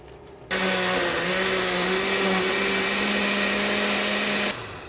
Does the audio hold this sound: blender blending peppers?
yes